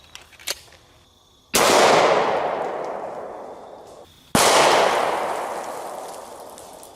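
Two loud, close gunshots from a Springfield 1911 A1 pistol firing .45 ACP 230-grain +P jacketed hollow points outdoors, each a sharp crack followed by a long decaying echo, spaced about three seconds apart after a few faint clicks.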